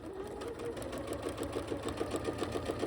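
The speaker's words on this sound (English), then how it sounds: "I said I was going to chain sew these last 3, so let's do that" A sewing machine chain-sewing quilt pieces for a pansy quilt, a steady close whirring with rapid rhythmic stitching that runs without a break.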